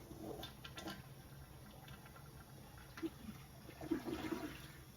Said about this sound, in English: Once I've put the bucket of water through, then I'm going to flush the toilet.